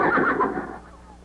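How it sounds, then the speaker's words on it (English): A single loud horse whinny, close by, trailing off quickly into quiet. "Sounded like a horse."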